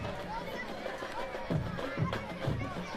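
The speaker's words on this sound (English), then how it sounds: "And you can hear the crowd." Crowd chatter from the stands at a high school football game, Del Rio Rams at Leander Lions, a steady hubbub of many voices with a few louder bursts rising from the murmur.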